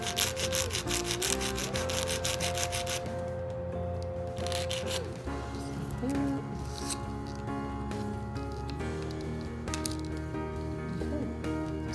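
A nail file rasps back and forth across an acrylic nail tip in quick, rhythmic strokes, close and steady, with soft background music playing throughout.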